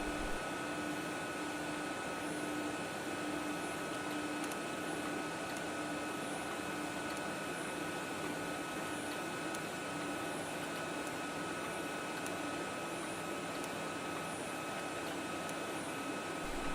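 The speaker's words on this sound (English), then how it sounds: "After grinding or serration, the A95 performs a deburring cycle to remove any remaining burrs, leaving the blade clean and ready for use." An A95 blade sharpening machine runs a deburring cycle with a faint, steady mechanical whine and hum that holds constant throughout, with no voices.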